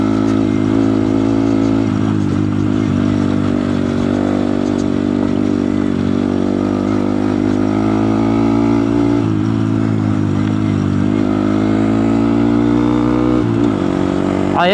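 A Honda Grom motorcycle on knobby tires rides close by with a steady, loud buzzing engine drone, its pitch shifting slightly as the throttle varies, and a short rev toward the end.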